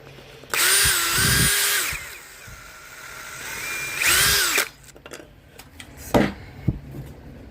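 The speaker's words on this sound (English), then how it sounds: "what I have to do when I don't have the right side is drill it out by hand" Hand drill boring out a part of a 220V AC outlet, two loud whining bursts of a few seconds each with a pause between, followed by sharp clicks and clatter.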